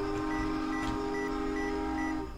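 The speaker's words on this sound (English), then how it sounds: "Ooh, the train just came through." A train in Roblox Jailbreak passes with a steady, droning tonal hum and a faint repeating chime on top, holding level throughout before fading slightly at the end.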